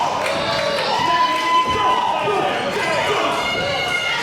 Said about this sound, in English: our crowd here in Hamden, squarely behind Landon Hale